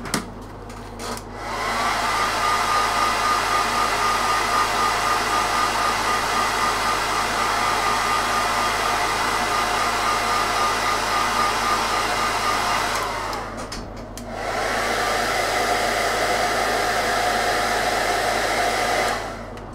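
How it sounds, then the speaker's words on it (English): A hair dryer dries paint on weathered Necromunda bulkhead scenery. It blows loudly and steadily for about twelve seconds, cuts off briefly, then starts again and runs on, with no talk. "hair dry time again"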